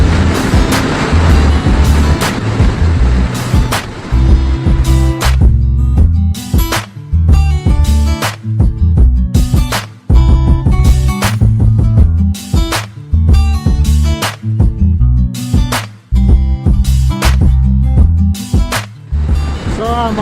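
Motorcycle cruising a highway from Singapore toward Malacca, a loud continuous engine drone and heavy wind rumble throughout, with surges and brief dips as the ride continues.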